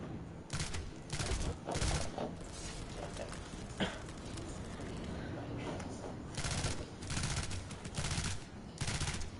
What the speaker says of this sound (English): The Lynx is not a longer range gun. It's a close quarters combat wrecking machine.